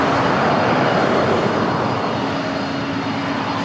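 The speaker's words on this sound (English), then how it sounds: "Next, we have Delta Airlines 939. We'll be taking off to JFK to 767-300ER" A 27-year-old Delta Airlines Boeing 767-300ER jet roars at takeoff power from LAX, a loud, dense, sustained engine rumble that holds steady and eases slightly toward the end.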